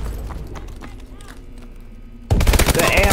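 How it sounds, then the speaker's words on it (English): An AMR9 five-round-burst submachine gun in Call of Duty Advanced Warfare fires loudly in the final second, a sudden dense burst of sharp shots following quieter gameplay sounds. "The AMR9 is a 5-round burst submachine gun"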